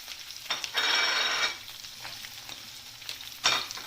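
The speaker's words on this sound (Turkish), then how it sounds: "Biberlerle de güzelce bir kavurma işlemini yapıyoruz." Peppers sautéing with meat in a pan for Turkish saç kavurma, giving a steady sizzle with a louder burst of frying and another short flare near the end, no voices.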